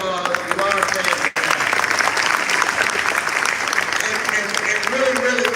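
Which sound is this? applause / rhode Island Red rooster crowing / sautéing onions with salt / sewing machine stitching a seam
applause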